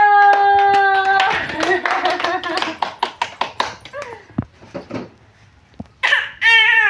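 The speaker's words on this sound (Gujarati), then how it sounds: "તાળી પાડો તાળી પાડો" Hands clapping in a quick, lively run of claps alongside singing and chatter from a family group, with a voice, ending in a high, wailing voice.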